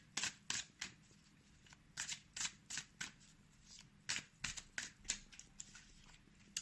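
Angel oracle cards are shuffled and handled close up, producing a quick irregular run of crisp papery flicks and riffles at low volume with near silence between them.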